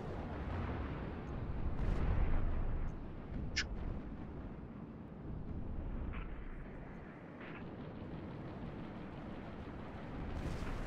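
Muffled explosions in Halo: Reach rumble in a continuous low roar, swelling and fading with a few sharper bursts over the course of the clip.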